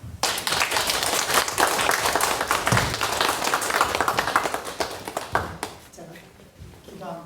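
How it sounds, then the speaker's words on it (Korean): A church congregation at a Sunday worship service breaks into lively, dense clapping that carries on steadily for several seconds before thinning out and fading near the end. "네, 일단 박수 하세요."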